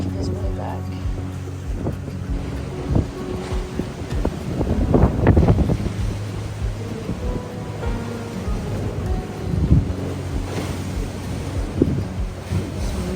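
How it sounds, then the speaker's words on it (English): Choppy sea water churning near a harbor dock in Skagway, Alaska, with boats loading passengers close by, wind buffeting the microphone and a low engine hum under steady wave wash. "As you can see, the water was really choppy this day"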